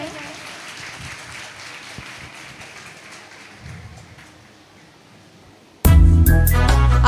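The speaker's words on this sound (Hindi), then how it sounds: "जोरदार तालियां बजाएं।" An audience at a hospital Matron's Day event in Prayagraj claps in a soft, fading patter of many hands, with faint voices beneath. The applause is then cut off by a sudden loud burst of music.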